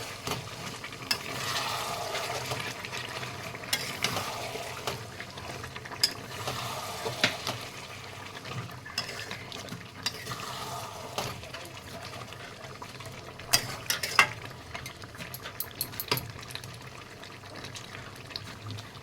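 Chicken being stirred with freshly ground masala in a pan for chicken biryani, a steady low sizzle with scraping and stirring clatter throughout, a few sharper utensil knocks near the end.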